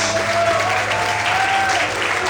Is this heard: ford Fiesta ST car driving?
no